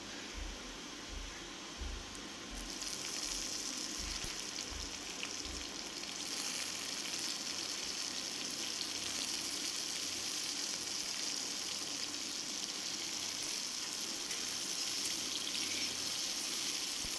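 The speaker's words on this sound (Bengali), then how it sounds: "আমার পেঁয়াজগুলো একটু লাল লাল করে ভাজা হয়ে গেছে এরপর আমি দিয়ে নেব বেগুন আর কুমড়োটা" Onions sizzle gently in a pan, then the frying swells into a louder, continuous hiss as eggplant and pumpkin are added and keep cooking steadily with no voices.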